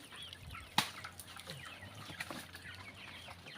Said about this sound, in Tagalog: Ayan, meron siya ditong manok.